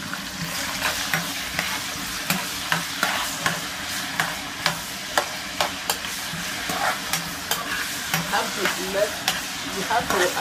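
Onions fry in a pot for a yam and egg stew, giving a continuous sizzling hiss with evenly spaced scraping taps from stirring, close and loud.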